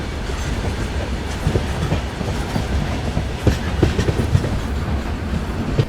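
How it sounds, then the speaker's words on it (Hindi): The Magadh Express passenger train rolls steadily onto a loop line, wheels clattering in a continuous loud rumble with rhythmic clickety-clack over rail joints and no talk. "चलिए, फाइनली लूप हो रही है अपनी ट्रेन।"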